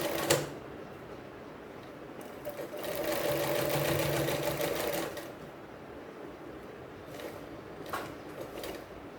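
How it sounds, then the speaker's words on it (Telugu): A sewing machine stitches the folded hem of a school uniform skirt, its rapid mechanical chatter running for a few seconds, then fading to quieter handling noises. "ఇది ఇలా మడత పెట్టేసుకుని కుట్టేసుకుంటే అయిపోద్దండి"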